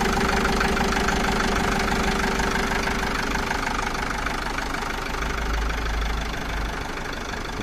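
Hyundai HD78 refrigerated truck's engine idling from a cold start, a steady low, even diesel rumble with a faint knocking texture, close and continuous with no voices.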